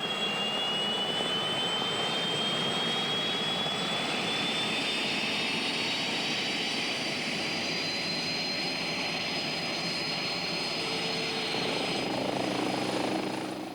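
A Westland Scout helicopter flies close by, its loud, steady turbine whine and rotor roar filling the air without a break for the whole stretch, with no talking.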